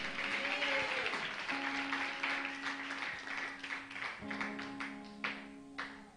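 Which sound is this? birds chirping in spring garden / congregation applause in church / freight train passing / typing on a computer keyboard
congregation applause in church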